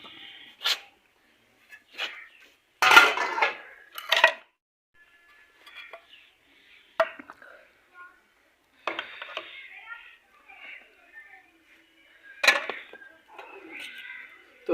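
Aloo gobhi is spooned out of a pan in a quiet kitchen, with sparse metallic clinks and short scrapes separated by silent pauses and a brief voice.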